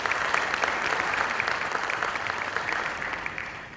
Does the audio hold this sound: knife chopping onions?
no